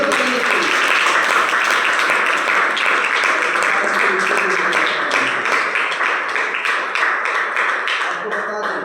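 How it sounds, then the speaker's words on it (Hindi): Loud applause and clapping fill a school hall at a DXN marketing meeting in Boisar, India, with sharp taps in the mix and voices over the crowd. "इनके लिए एक बार जोरदार ताली दीजिए"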